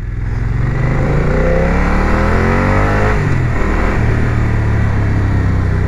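A 2023 BMW F900R motorcycle engine accelerating hard, loud and close, its pitch climbing through gears with a shift near the middle, then pulling strongly again.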